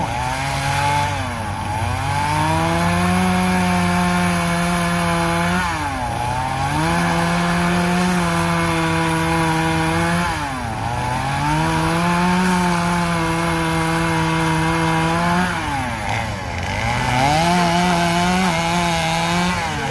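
A chainsaw runs loud and close at a timber show, its engine pitch dipping and recovering in repeated cycles as it bites through wood, with no talking.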